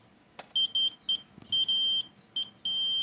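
An electronic multimeter on continuity mode chirps in short, close, high-pitched beeps during an automotive electrical test, several rapid intermittent bleeps ending in a longer sustained tone, with faint handling clicks between them.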